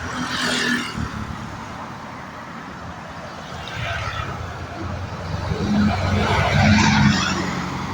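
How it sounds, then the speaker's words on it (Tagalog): A large truck drives past on a road by the Davao River dike near Bolton Bridge, a broad rumbling roar that swells and fades with tire noise, while people talk faintly nearby. "Malaking truck po yung dumaan"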